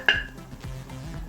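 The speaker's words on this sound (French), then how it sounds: "Mélanger tout ça." A utensil scrapes and clinks in a pan as dried fish and shrimp are stirred into hot oil, a sharp knock at the start followed by soft scraping and a low sizzle.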